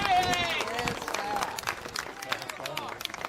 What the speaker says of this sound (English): How about a round of applause for Zemba?